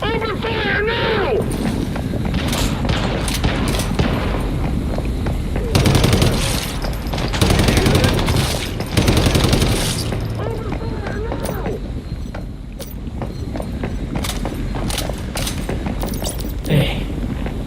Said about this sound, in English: Open fire now!